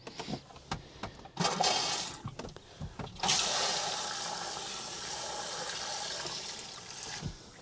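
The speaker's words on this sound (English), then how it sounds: "Look at that, running water." Water runs from a tap in an RV, starting in sputtering bursts before settling into a steady, close, hissing flow that continues without talk.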